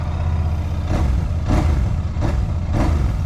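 A Royal Enfield Bear 650 parallel-twin motorcycle engine with a 270-degree crank starts and runs close by with a deep, throbbing idle, its rough exhaust note pulsing in a few rhythmic surges.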